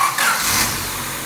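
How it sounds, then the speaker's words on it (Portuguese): A car engine runs close up during a radiator and cooling-system flush, a loud steady mid-pitched hum that eases slightly after a brief rise at the start. "Vamos deixar agora o motor funcionar por 5 minutos."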